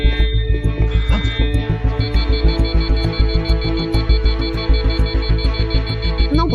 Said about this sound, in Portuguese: Não posso deixar o alarme tocar muito tempo.